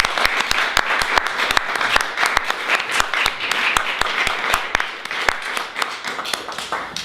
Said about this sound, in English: If we could give a huge round of applause to Dr. Matthew.